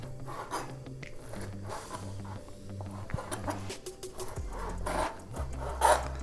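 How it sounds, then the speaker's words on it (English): A knife roughly chops about five slices of smoked bacon on a board, giving repeated rasping, scraping cuts at close range with no voices. "I've got about 5 slices here, and I'm just going to give this a rough chop."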